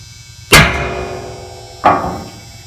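Two sharp metallic hammer strikes on a center punch on a truck during a roof rack installation, about a second and a half apart, each ringing briefly before fading.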